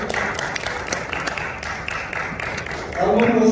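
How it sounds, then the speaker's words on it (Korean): An audience at a Korean regional forum claps, a scattered patter of applause from a small crowd indoors that swells near the end, with a voice speaking. "박수 부탁드리겠습니다."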